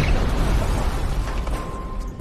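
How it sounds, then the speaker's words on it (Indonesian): A film explosion bursts from a campsite tent, a loud rumbling boom with a heavy low-end roar that lingers and slowly decays over a couple of seconds, with no talk. "gak lama muncul ledakan dari arah tenda mereka"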